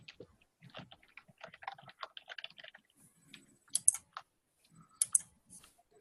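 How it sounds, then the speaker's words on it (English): Soft, irregular keyboard typing comes from a participant in an online community meeting, a faint scatter of quick clicks and short bursts with no talking over it. "we'll hear Bob typing"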